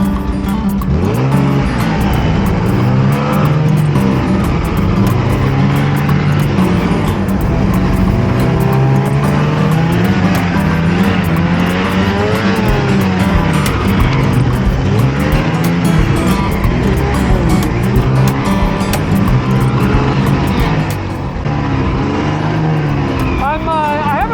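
An Arctic Cat 850 snowmobile engine on a ride, a loud, continuous high-revving whine that rises and falls with throttle changes, close and steady throughout with wind noise, and no clear talk over it.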